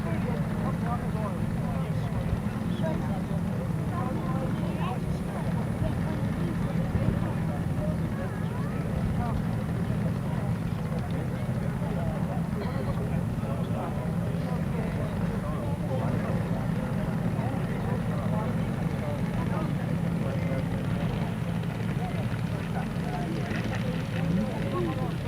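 Large RC model aircraft, a Catalina and Whitley Bomber, at a large model show: a steady, continuous engine drone with propeller hum, with a voice narrating over it.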